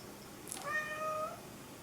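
A single drawn-out cat meow, fairly close and clear, rising then falling, against a quiet background.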